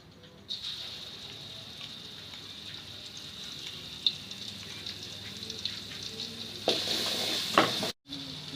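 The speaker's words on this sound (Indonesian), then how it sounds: "Kita gunakan sedikit saja untuk menumis bumbu yang tadi kita haluskan ya." Ground spice paste sizzles steadily in hot oil in a wok with occasional stirring scrapes, growing louder near the end before a brief cut; a faint voice talks at times.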